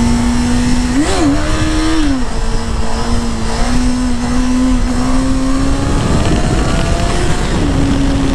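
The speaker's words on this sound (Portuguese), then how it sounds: "que da hora andar numa moto clássica assim" A carbureted classic Honda Hornet motorcycle is ridden with a loud, close engine roar that rises and dips as the throttle changes, then holds a steady drone.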